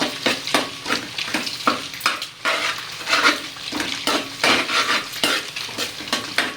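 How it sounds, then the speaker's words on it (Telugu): Chicken fried rice being stirred in a pan, a steady run of scraping, clattering spatula strokes against the metal over a soft background sizzle, close and fairly loud with no talking. "ఇప్పుడు ఒకసారి బాగా ఇలా కలిపేసుకుందాము"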